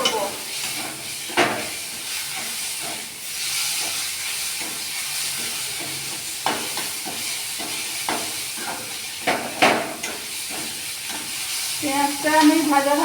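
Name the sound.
grated onion and ginger frying in oil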